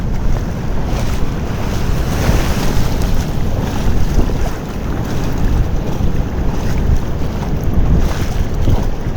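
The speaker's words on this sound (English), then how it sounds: "I mean, the wind did pick up." Strong wind gusts over open water during a fishing outing, with steady wind noise buffeting the microphone and waves lapping near a boat, loud and continuous with no talking.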